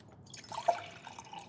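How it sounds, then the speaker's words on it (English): A single soft drip of water lands in a drinking glass amid a quiet room, brief and close, with faint background noise around it. "I'm getting myself a glass of water."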